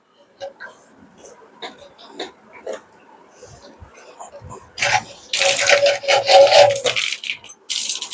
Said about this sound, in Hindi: अब देखेंगे इसमें से पानी गिरने लगा है।